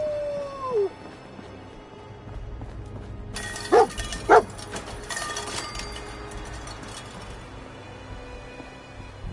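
Dogmeat, the dog companion in Fallout 4, lets out a brief whine, then two sharp, loud barks close together over a low ambient game background.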